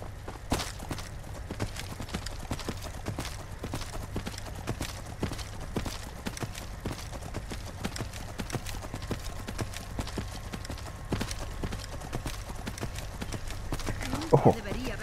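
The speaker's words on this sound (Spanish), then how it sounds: "Tenemos al caballo este del más allá." Horse hooves clip-clop steadily in Skyrim, a regular walking rhythm of hoof falls running throughout, moderately loud, with a brief louder sound near the end.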